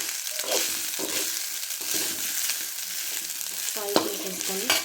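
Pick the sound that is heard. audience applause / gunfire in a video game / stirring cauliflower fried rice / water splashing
stirring cauliflower fried rice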